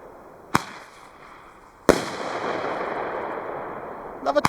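Piromax roman candle fireworks fire outdoors: two sharp, loud launch bangs a second apart, the second followed by a long crackling hiss, then a quick rattle of smaller pops at the end.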